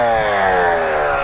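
A Yamaha TT-R125 dirt bike engine catches and runs, giving a loud, close, steady buzzing drone that dips slightly in pitch as it settles, with no voices.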